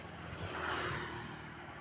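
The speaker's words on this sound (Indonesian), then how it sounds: "Kayaknya berangkat nih pesawatnya, tapi arahnya ke sana" A Batik Air airliner taking off at an airport, its engines giving a steady, broad roar heard from a distance, fairly faint and unbroken throughout.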